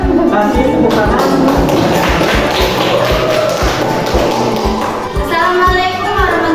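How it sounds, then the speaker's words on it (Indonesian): Students in a vocational high school classroom give loud, dense applause for a presenting group, mixed with rhythmic thumping beats and a background of chatter. "Kasih tepuk tangan"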